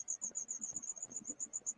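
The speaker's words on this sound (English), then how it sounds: "wait, no, that's crickets" Crickets chirp in a fast, steady pulsing trill that repeats across the whole stretch, with a second cricket overlapping. The chirping stays clear above faint low background sounds and there is no talking.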